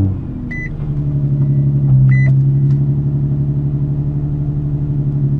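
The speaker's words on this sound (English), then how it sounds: "I'm just gonna start the car up and see if everything's running correctly." A Nissan G35/350Z-family engine fitted with a plenum spacer starts on a cold morning and settles into a steady, close, loud idle, with a couple of short electronic chimes early on.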